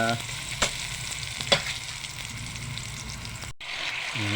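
Stir-frying ingredients for ginataang pagi (stingray in coconut milk) sizzle steadily in a pan until golden brown, a continuous close hiss broken by a couple of sharp spatula scrapes and a brief dropout near the end.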